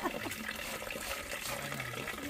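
Water splashing and pouring during an outdoor bath, with dippers of water tipped over the body in steady, fairly close bursts, while people talk and laugh in the background.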